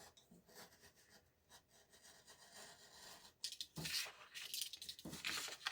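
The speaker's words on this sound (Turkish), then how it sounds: "ben vakit kaybetmemek adına maket bıçağını tercih ediyorum" A craft knife cuts through cardboard for a fish mask, giving soft rubbing scrapes at first, then louder, rasping slicing strokes in bursts near the end, close by with no talking.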